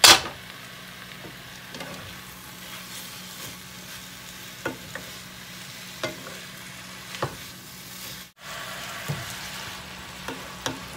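Beef and fresh lettuce stir-fry for Indomie mie goreng noodles in a hot pan, giving a continuous close sizzle and crackle broken by regular sharp scrapes and taps of a spatula.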